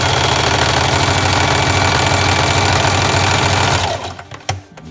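Sewing machine zigzag stitching along the fabric edge of newborn baby pants, a loud, fast continuous needle chatter and motor hum that runs for about four seconds, then stops with a few small clicks.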